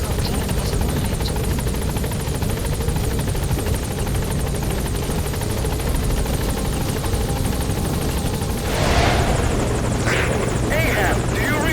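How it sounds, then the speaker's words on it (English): Support helicopter arriving in Metal Gear Solid V: The Phantom Pain, a steady loud rotor buzz and engine drone throughout, swelling as it draws close near the end, with radio voices talking over it. "Support helicopter has arrived."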